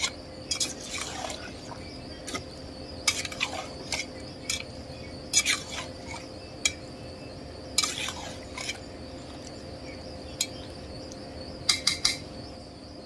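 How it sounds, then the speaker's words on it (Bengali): A spoon scrapes and clinks against a cooking pot of simmering beef curry, giving sharp intermittent taps and scrapes spaced every second or two over a steady low hum, no voices. "নাড়া দিয়ে দিব"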